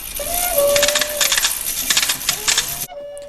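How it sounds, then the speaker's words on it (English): A telegraph clatters in a western film scene, with rapid irregular metallic clicks and taps close up over a faint tonal whine, then cuts to near silence. "the clicking of a telegram"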